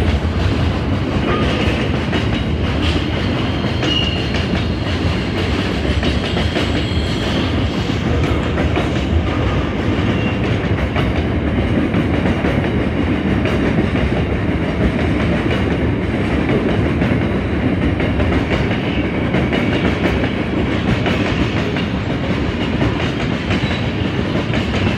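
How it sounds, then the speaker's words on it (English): A freight train hauled by an 81 class locomotive rumbles past at close range at Marrickville, Sydney, for a long, continuous stretch, wheels clicking rhythmically over the rails beneath a steady mechanical roar. "Train T164, the 81 class."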